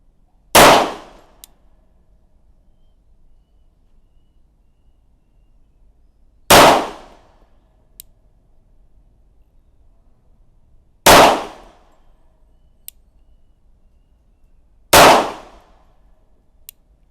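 Four slow, evenly spaced pistol shots from a Colt or Rock Island handgun, fired from a rested sitting position at a 10-metre range, each a sharp loud crack with a short decay, separated by several seconds of quiet.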